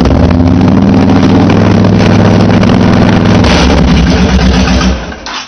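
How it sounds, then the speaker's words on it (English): A 2004 Honda VTX 1300 motorcycle engine with a freshly cleaned carburetor idles loudly and close by, then its steady drone shifts upward partway through as the choke is pulled, before cutting off near the end. "when I pulled the choke, you heard the RPM go up"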